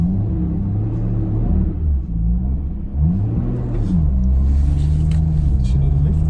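Nissan Skyline GT-R R34 V-Spec II Nür being driven in Japan, its engine note rising and falling through several gear changes with a droning cabin rumble, heard from inside the car.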